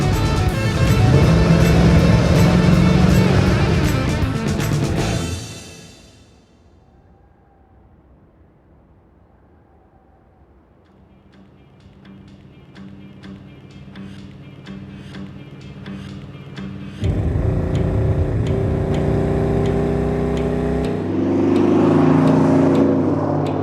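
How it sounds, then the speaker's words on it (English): Classic Chevrolet Camaro muscle car engine on the road, a loud roar at first that drops to a quiet stretch, then a steady engine drone builds back up and stays loud to the end. "The engine sounds phenomenal."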